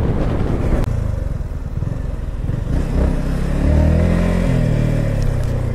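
A motorcycle climbs uphill toward a reservoir near a temple, its engine a close, steady mid-pitched drone that swells briefly as it pulls up the slope.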